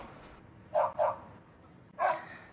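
A dog barks three times, two quick barks close together then one more after a pause, fairly clear over a low background hiss.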